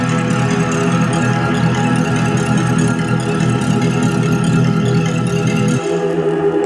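A dense, sustained musical sample runs with a dissonant phaser effect turned on, giving a thick, continuous, loud texture that shifts slightly near the end.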